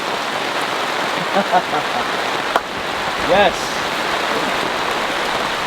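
Heavy rain pours steadily onto a camping tarp during a powerful thunderstorm, a dense continuous hiss close overhead, with a brief spoken word partway through.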